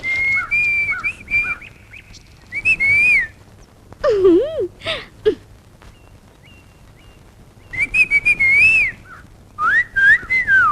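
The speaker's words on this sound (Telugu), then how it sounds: "ఏయ్, మగవాళ్ళ ఈలలేంటి?" A person whistles loud, close, wavering two-tone calls in several separate bursts with pauses between them, alone without speech.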